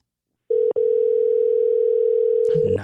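A steady telephone tone sounds loudly for about two seconds on an outgoing phone call, with a brief break near the start, then a voice begins at the end.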